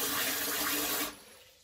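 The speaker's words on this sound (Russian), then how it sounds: "Открываем воду, задаем нужную нам температуру" Water from a hygienic shower in a bathroom runs in a steady, loud hiss, then cuts off abruptly, leaving a faint tail that fades into quiet.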